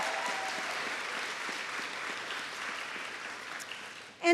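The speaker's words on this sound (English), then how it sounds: "So give them another round of applause" Steady applause from an audience at a college commencement ceremony, moderately distant and even throughout, ending abruptly with a louder burst.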